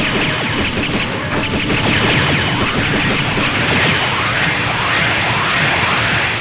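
Dense, continuous gunfire in the Robotech Battlecry video game, a loud unbroken barrage of rapid shots and blasts with no pause.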